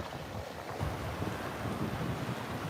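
Surf and wind at a sandbar off Marco Island, Florida: a steady wash of shallow waves under gusty wind buffeting the microphone, fairly faint and continuous, with no talk.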